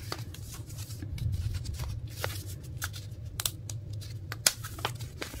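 Glossy K-pop album photo cards being handled and shuffled close by, a steady papery rustle with scattered crisp flicks and snaps over a low room hum, no talking.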